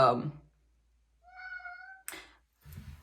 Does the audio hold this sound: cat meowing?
yes